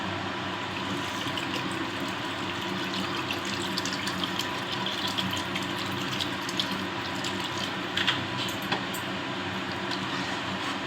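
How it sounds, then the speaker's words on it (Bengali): Water pours steadily into a cooking pan while vegetarian ghugni is being made, a continuous rushing, splashing flow that stays loud and close throughout. "একটু জল দিচ্ছি।"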